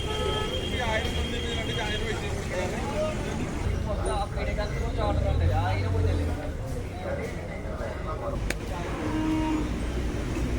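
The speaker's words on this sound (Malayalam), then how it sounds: "നല്ലൊരു അടിപൊളി കാളയാണ് അത്യാവശ്യം ഏജ് ഉണ്ട്" A bull lowing amid the busy Edakkara cattle market in Kerala, with people talking and distant traffic noise throughout.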